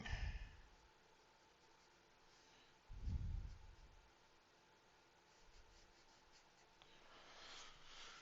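A drawing tool laying color onto paper makes soft scratchy strokes and light rubbing, faint and close, with a couple of louder brushing bursts in between.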